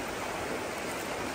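Clear stream water rushes steadily at Agate Falls in Michigan, a dense and even hiss of flowing water heard close up with no voices.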